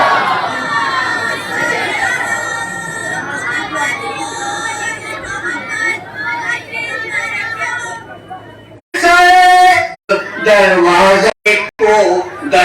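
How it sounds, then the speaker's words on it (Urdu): A crowd at a religious conference in Baramulla bursts into loud chanting of salawat slogans in several forceful call-and-response waves after a single voice speaks over the sound system. "نعرے صلوات۔"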